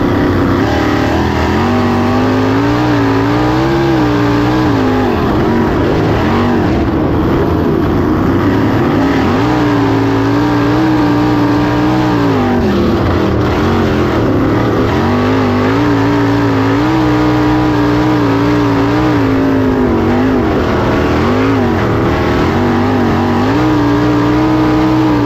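410 winged sprint cars racing at Putnamville, heard from a bumper-mounted position as a loud, constant, close engine howl that rises and falls in pitch with each lap's acceleration and lift, unbroken throughout.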